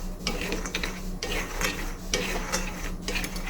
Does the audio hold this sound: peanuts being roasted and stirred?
yes